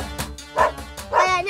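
A dog barks three times in quick succession, close and loud, with no talk over the barks.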